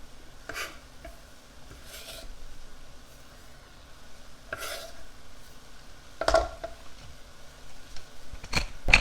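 Basil is stirred into an Indonesian fish stew with lime and coconut in a pot, heard as scattered close scrapes and soft clinks of a utensil against the pot over a quiet bed, with a faint simmer beneath.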